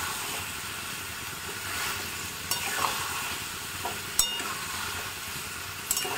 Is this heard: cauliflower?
yes